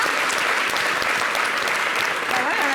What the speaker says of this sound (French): Merci d'applaudir la régie.